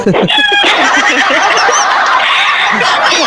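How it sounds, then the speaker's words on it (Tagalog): A hen, apparently laying an egg, clucks in short bursts over steady, bright background noise, with a brief voice near the start. "Mukhang narinig ko yung mukhang may manok na nangingitlog dyan"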